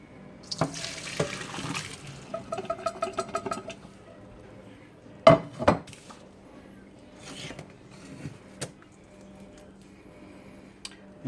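Boiled raisins are drained in a kitchen sink. Water pours and splashes in short uneven bursts, broken by a couple of sharp knocks, then it tapers off into quieter dribbles.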